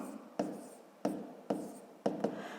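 Someone writes a maths equation for a fifth-grade exercise, making four or five quiet, distinct strokes at a fairly even pace in a hushed room.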